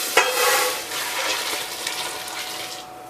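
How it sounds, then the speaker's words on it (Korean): Boiling water poured from a pot over salted, cut onions for onion kimchi, a steady rushing, splashing pour with bubbling that starts abruptly and tapers off near the end, close and alone with no talk. "녹았으면 이 끓는 물을 그대로 뜨거운 채 부어주시면 됩니다."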